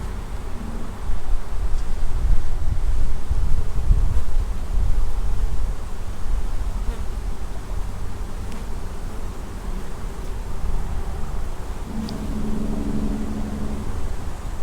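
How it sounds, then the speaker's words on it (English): Honeybees hum around a hive at Martin's Point on a fine day, a dense steady drone close to the microphone with occasional louder passes of individual bees, no voices. "Bees are in a good mood."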